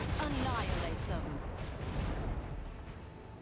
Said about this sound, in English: Macro cannons. Annihilate them.